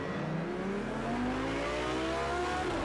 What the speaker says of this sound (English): I really like the way this car sounds here in Project Cars 2